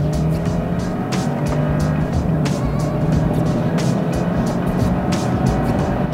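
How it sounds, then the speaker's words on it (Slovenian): The petrol engine of a BMW X5 40e plug-in hybrid SUV drones and builds as the vehicle accelerates, a loud, continuous interior rumble with road noise and occasional bumps. "se avtomatsko prižge bencinski motor, ki poskrbi za nadaljevanje vožnje v prijetnih zvokih"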